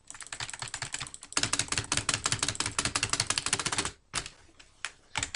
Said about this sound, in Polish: walą w klawiaturę, to tak słychać